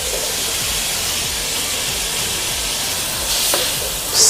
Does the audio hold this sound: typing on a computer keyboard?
no